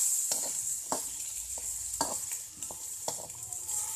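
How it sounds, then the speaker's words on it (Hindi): Onions frying in a pan for kanda poha, a steady sizzle with repeated stirring scrapes and clinks of a spoon at irregular intervals, close and moderately loud, with no talking. "प्याज को हम ज़्यादा नहीं भूनेंगे, करीब 5 से 7 मिनट में इसे भून रही हूँ।"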